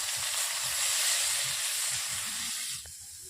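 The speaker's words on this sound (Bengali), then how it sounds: "এরপর দিয়ে দিচ্ছি পেঁয়াজ কুচো" Chopped onion added to hot oil with whole cumin seeds for a potol dolma filling, giving a loud, steady, close sizzle that softens slightly at the end.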